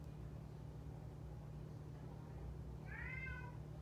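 After a few seconds of low background hum, a single short, rising-then-falling meow sounds faintly near the end.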